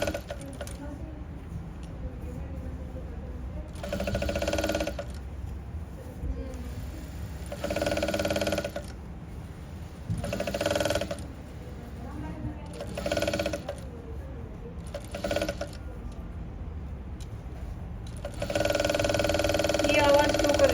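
A sewing machine in a tailoring class runs in several short bursts with a rattling, clicking mechanical noise, pausing between runs while a person talks quietly in the background.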